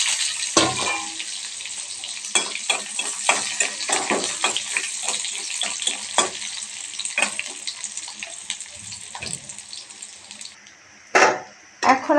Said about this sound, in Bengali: তো এখন আমরা সুন্দর মতো নাড়বো। এর সঙ্গে আমরা পেঁয়াজ দিয়ে দিচ্ছি